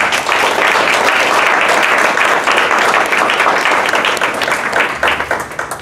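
A large audience at a university college graduate student colloquium claps steadily, a dense, loud wash of applause close by that holds for several seconds and then starts to thin out at the end.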